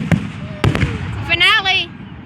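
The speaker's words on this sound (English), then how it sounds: "that's a lot of fireworks" Fourth of July fireworks burst in a few sharp pops and cracks, with a voice talking and exclaiming over them.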